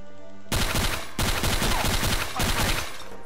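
Automatic gunfire in the game Garry's Mod, Trouble in Terrorist Town mode, with a World War II style automatic weapon: three loud, dense bursts of rapid shots separated by short pauses.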